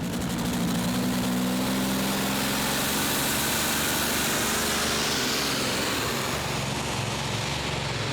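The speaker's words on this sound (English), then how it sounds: "He's converted this truck engine to methanol." Methanol-converted truck engine of the Truck Power tractor puller at a 2.5-ton class Eurocup event in Herning, Denmark, roaring at full load with a dense, loud, continuous blare throughout.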